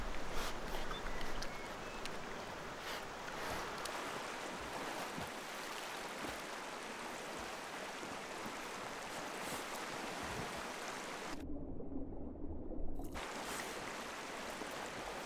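A salmon stream in bear country flows with a steady, broad rush of water, continuous and fairly near, briefly muffled for a moment.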